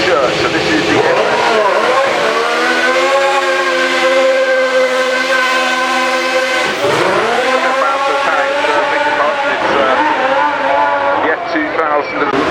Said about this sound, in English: It's the F2000.